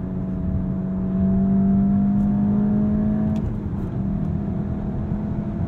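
The engine of a 2023 VW Golf GTI S with a manual gearbox revs in a steady rising drone toward the redline, heard from inside the car over road and wind noise, then drops back after a shift.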